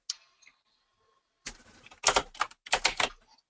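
Typing on a computer keyboard during a Windows setup session, quiet isolated clicks at first, then dense bursts of rapid keystrokes, close and fairly loud, with no talking.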